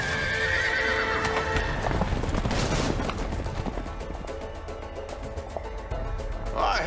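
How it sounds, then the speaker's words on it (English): Horses in the video game A Way Out neigh and whinny loudly while hooves clatter in a dense, continuous din, with bursts of gunfire-like crackle mixed in and a voice speaking briefly. "Oh shit, the horses!"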